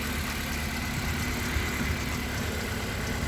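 Honda Accord CB7 with a G23 VTEC engine idles steadily after an injector replacement, a continuous low, even hum with a faint knock-like pulse underneath and no voices.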